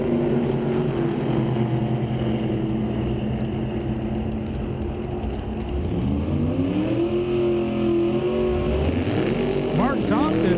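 Drag racing at Mission Raceway Park, a 598 cubic inch Studebaker and a 660 cubic inch Corvette, loud sustained engine roar with rising revs and pitch sweeps near the end, a commentator talking over it.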